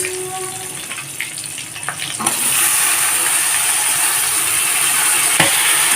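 Carrots and beans, with a light dusting of garam masala, drop into a hot pan for veg fried rice. Quiet stirring clatter gives way to a loud, steady sizzle that continues to the end, with no one speaking.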